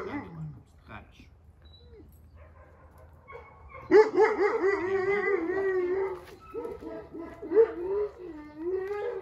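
A four-month-old Doberman puppy in obedience training vocalises in whines and short barks, close by and fairly loud, with a person speaking over and between the sounds.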